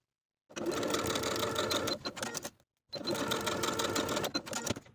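Sewing machine stitching the shoulder seams of a dress, running in two close, steady bursts of rapid mechanical whirring separated by a short stop, loud and near.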